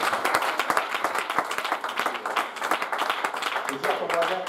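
A church congregation applauding the Lord during an evening service, steady rapid clapping from many hands throughout, with voices calling out over it.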